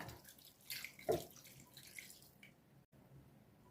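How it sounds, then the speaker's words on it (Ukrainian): About 200 ml of plain water being poured into a cooking pot holding meat with pomegranate and soy sauces, a short splashing burst near the middle, faint and close, then quiet kitchen room tone. "200 міль води, звичайна вода."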